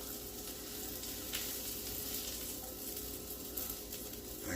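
Onions frying in butter on a griddle until golden brown, making a steady, dense sizzle up close that carries on without a break, with a few faint clicks of stirring.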